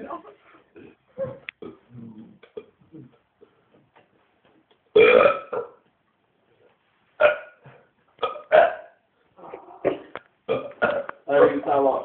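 A dog makes several short, wet, retching burp-like noises close by, scattered between quiet gaps, while a person talks at intervals.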